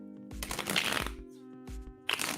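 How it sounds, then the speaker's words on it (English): Tarot cards are shuffled by hand close to the microphone in bursts of riffling and flicking, three main rounds over a couple of seconds with a low hum between them. "My shuffling is so off tonight."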